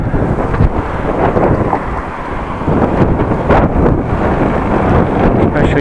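Heavy wind roaring across the microphone while cycling into a headwind on a bike commute around Groningen, a loud continuous buffeting rush that swells in gusts, with no talk.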